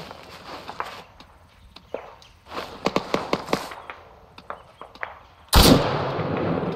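Sniper gunshots in Arma 3 during a resistance-fighter co-op match: several sharp cracks spaced a second or so apart, then one loud close blast with a ringing tail, over faint background ambience.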